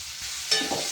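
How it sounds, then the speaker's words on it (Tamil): Tomatoes and asafoetida sizzle and sputter in a hot pan, a brief close burst of frying crackle with a sharper hiss as something is stirred in. "இப்போ வந்து தக்காளி போடுறேன். வதங்கிட்டேன். பெருங்காயம் போடுறேன்."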